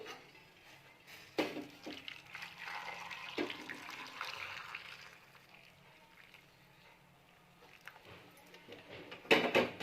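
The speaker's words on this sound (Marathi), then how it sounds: "यावर आपण उकळीचं पाणी टाकणार आहोत।" Boiling water poured over whole lemons for pickle makes a soft, fairly quiet splashing pour with a few light clinks of a vessel.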